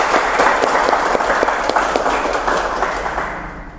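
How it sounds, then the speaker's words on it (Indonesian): A small audience at a military court gathering in Bandung claps together, a continuous dense burst of hand claps that stays strong and even before tapering off at the close. "Tepuk tangannya dulu dong."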